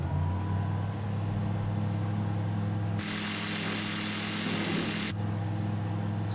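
A seaplane engine in a flight simulator game throttles up, a steady close droning hum that jumps to a louder, brighter roar partway through, holds there, then drops back down.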